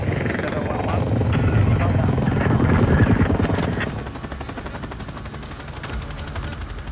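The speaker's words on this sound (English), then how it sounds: "Chopper gunner ready to deploy." A chopper gunner helicopter in the Ground War mode of a shooting video game, with steady rotor thumping and bursts of gunfire. The sound is loud at first, then eases back.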